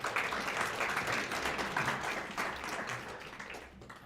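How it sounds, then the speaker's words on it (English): A town hall audience claps for an organizer, fairly faint but dense, a steady patter that thins and fades in the final second. "Give another round of applause going."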